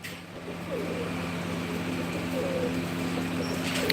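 Pigeons at a village loft in Madhpur near Samrala coo softly in low, rolling calls over a steady outdoor hum, with faint traffic in the background.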